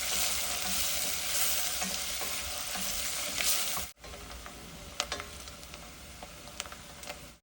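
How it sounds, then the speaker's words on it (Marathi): Onion sautéing in a pan with cinnamon, cumin and mustard seeds for a ridge gourd curry, a steady loud sizzle and frying crackle that drops briefly midway as it is stirred, then carries on with sharp pops. "यात आपण कांदा घालूया. आपण छान परतून घेऊया."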